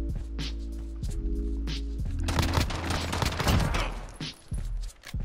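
Rapid bursts of X16 pistol gunfire in Call of Duty Modern Warfare, loud and close, with sharp repeated shots and a denser volley partway through.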